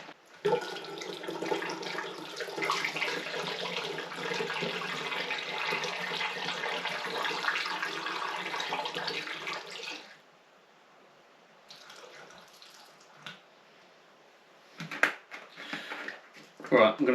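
Supermarket juice pours steadily into a fermenting container for about ten seconds in a loud, continuous gush, then stops, followed by quieter handling and a few brief splashes and knocks.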